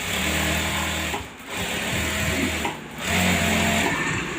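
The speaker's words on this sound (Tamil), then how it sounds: "எல்லா பீஸ்லேயுமே நம்ம பரிமாண தையல் போட்டு உட்கார வச்சிட்டோம்" A sewing machine stitching a blouse hums and rattles close by in three continuous runs separated by brief pauses, with no voices.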